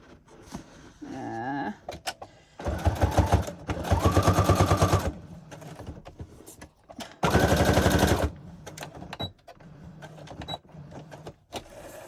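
A sewing machine stitches through junk journal paper pages in several loud bursts of fast, even rattling, with quieter stretches of paper handling and clicks between runs.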